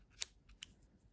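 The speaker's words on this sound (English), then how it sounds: "Then you can cut off those ends." Scissors snip the loose yarn ends on a crocheted doll with movable arms and legs, giving two quiet, crisp close clicks about half a second apart.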